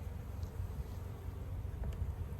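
Low, steady buzzing of many honey bees at an open hive, a dense drone that holds evenly throughout with a couple of faint clicks.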